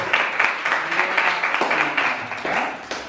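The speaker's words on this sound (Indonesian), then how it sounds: "Oke, baik, tepuk tangan." Classroom of students clapping their hands during a science lesson, a dense, lively patter of claps held at a steady loud level.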